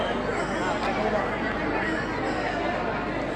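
A dense crowd throngs the Tukaram Maharaj palanquin procession in a steady, close wash of chatter and murmuring voices with no single sound standing out.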